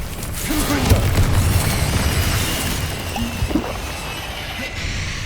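A Confringo fire spell bursts in Hogwarts Legacy, a booming crash followed by crackling, shattering debris and a low rumble, with a voice briefly calling out over the noise.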